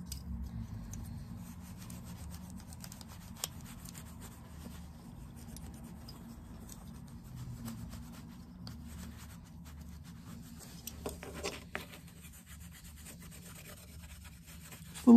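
Rubbing a bag lock with 000 steel wool, a soft, continuous close scrubbing hiss that runs steadily at low level, with a few faint clicks near the end.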